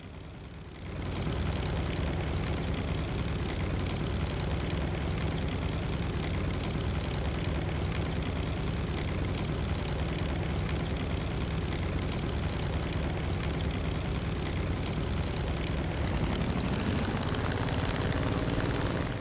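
An aircraft on landing approach in War Thunder with gear and flaps down, a loud continuous engine drone and wind roar that starts abruptly and shifts pitch near the end.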